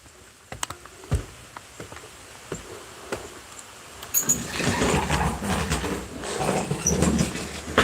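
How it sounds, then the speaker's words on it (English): Rain patters irregularly on a surface at first with scattered sharp drops, then swells after a few seconds into a louder, denser downpour that continues to the end. "Y'all hear it raining? Oh, it's raining harder."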